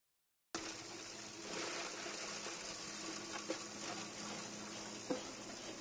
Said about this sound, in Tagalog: yung una nating tetestingin yung ating pulverizer